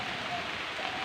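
Light rain falls steadily outdoors, a soft continuous hiss with no distinct drops, faint and even throughout.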